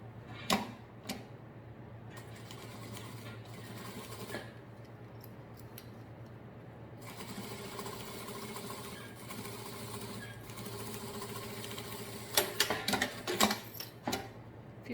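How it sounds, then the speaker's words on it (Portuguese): A sewing machine stitches a seam with the presser foot running along a zipper at the fabric edge, a steady fast mechanical clatter up close with a few sharper clicks and pauses, no talking. "Agora é só passar uma costura com o calcador encostado aqui no zíper, bem na beiradinha aqui do tecido."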